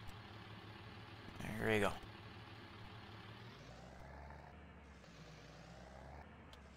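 Grain truck engine in Farming Simulator 22 pulling a gravity wagon, a low, steady drone that shifts pitch as it gets moving, with a short spoken phrase early on.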